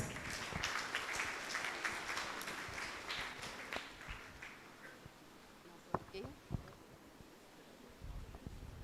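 Applause from a convocation assembly at a nursing institute welcoming a nun to the stage, a broad wash of clapping that fades over the first few seconds, leaving quieter room noise with scattered claps.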